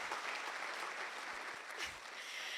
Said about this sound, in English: So kindly give yourself the biggest, loudest clap.